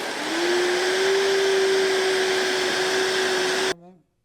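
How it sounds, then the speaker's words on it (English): A blender whirs loudly up close, blending warm sea moss with organic blue agave, a steady high motor whine that holds for several seconds, then cuts off abruptly and spins down. "Turn the blender on."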